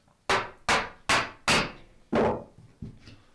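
Six sharp, evenly spaced knocks of a mallet on a gouge hollowing out wood for a shrink pot, close and hollow-sounding, the final strike lighter than the rest.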